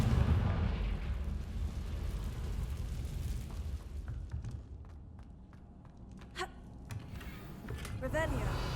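A Confringo blasting spell goes off in the Hogwarts Legacy game, a loud booming burst at the start that rumbles and fades over several seconds, with smaller pops and crackles trailing after.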